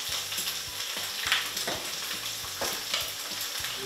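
Udon being tossed with a generous amount of grated cheese in a frying pan, a steady sizzle with repeated scraping and stirring strokes, close and moderately loud, no voices.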